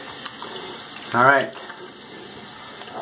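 A tap runs briefly into a sink while shaving with Nivea Men Sensitive shaving cream, a short close splash of under a second amid quiet room noise, and a voice speaks.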